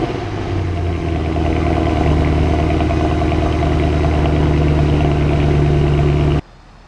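A Mercedes C63 AMG 507 edition sits idling with a deep, steady, rumbling engine note, close and loud, ending abruptly after about six seconds.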